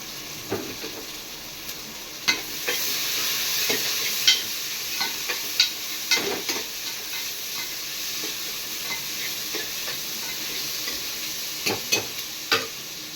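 Onions and green chillies stir-frying for egg biryani make a continuous soft sizzle, broken by occasional scraping strokes and taps of a spatula in the pan, close up with no voices.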